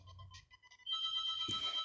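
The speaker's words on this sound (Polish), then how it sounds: "Przepraszam za to pikanie." A phone gives short electronic beeps, a few faint tones followed by a steadier louder ringing tone toward the end, quiet and alone.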